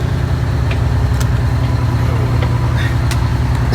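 A 1947 Greyhound bus engine idles steadily at a gas station, a loud, continuous low rumble with no break and no talking over it.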